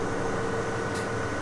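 A tractor engine in the Farming Simulator 17 video game drones steadily while driving, a loud, continuous, even rumble with no breaks.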